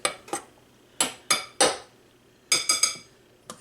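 Almond flour and salt are mixed in a bowl, giving a series of sharp, separate clinks and knocks of a utensil against the dish, about eight close hits in uneven bursts with quiet gaps between.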